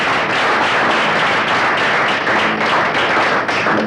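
Steady, dense applause fills a scene from the 1977 Pakistani film Pyar Ka Waada, a close, continuous wash of clapping with a few heavier thuds and no clear pauses.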